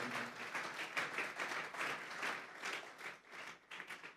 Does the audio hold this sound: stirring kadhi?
no